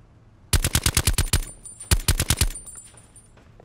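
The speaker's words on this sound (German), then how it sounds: "Oh, Alter, diese Schüsse, ne?" Automatic gunfire in Call of Duty Black Ops 4 Blackout, two rapid bursts of loud, close shots in quick rhythmic succession separated by a short pause, followed by fading echoes.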